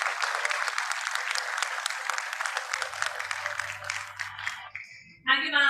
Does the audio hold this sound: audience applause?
yes